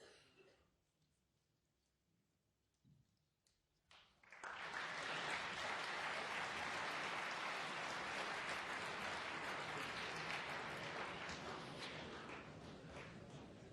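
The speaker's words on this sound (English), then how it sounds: "Not helped by untimely applause from the other table just at the moment he pulled the cue back." After a few quiet seconds, loud sustained applause breaks out from another table at a snooker World Championship match and continues steadily, tapering slightly toward the end.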